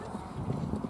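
A horse's hooves clip-clop briefly and faintly at a South Staffordshire equestrian event, with voices talking in the background.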